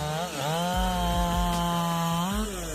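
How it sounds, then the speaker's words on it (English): A Husqvarna 371 XP chainsaw with a 70.7cc, 4.3 horsepower engine cuts through a large oak tree. The loud, steady engine whine sits close by and dips briefly as the chain bites into the wood. "this chainsaw cuts through towering oak trees like a hot knife through butter"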